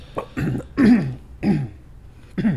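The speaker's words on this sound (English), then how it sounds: "Clear your throat there, huh?" Several rough throat-clearing bursts, close and fairly loud, spaced about a second apart with brief pauses between them.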